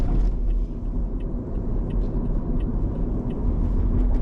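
A rental car rolls through a tunnel beneath Kuala Lumpur, a steady low road rumble and engine hum filling the enclosed space, continuous and fairly loud with no talking.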